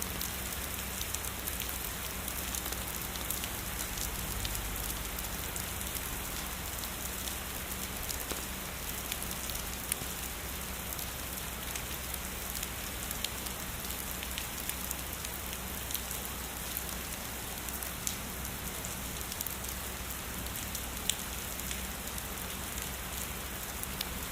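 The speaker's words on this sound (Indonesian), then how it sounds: "Hujan membuatmu sakit." Rain falls steadily in Sakura School Simulator, a constant dense patter of drops on surfaces with a faint underlying hum, even and unbroken throughout.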